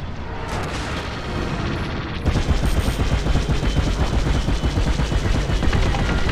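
Video-game gunfire erupts as enemies attack a comsat: sparse shots at first, then after a couple of seconds a dense, relentless stream of rapid automatic bursts, loud and close, with no talk.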